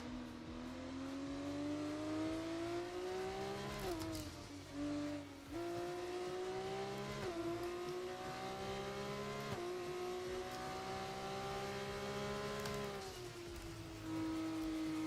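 Junior F1 race cars in the video game F1 24 drone with a continuous high engine whine that climbs through the gears, dips briefly and rises again with each shift, with the engine sound close and unbroken.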